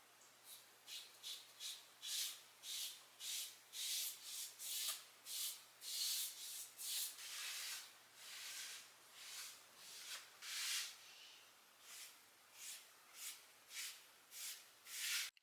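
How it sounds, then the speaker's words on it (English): Rhythmic back-and-forth rubbing as wood stain is worked onto a bathroom vanity, steady strokes of about two per second, close and fairly quiet, with no talking. "for this part, we can start staining"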